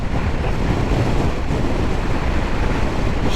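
Steady, loud wind roar buffets the rider while riding a KTM 390 Adventure motorcycle at about 100 km/h, a continuous rumbling rush with no talking.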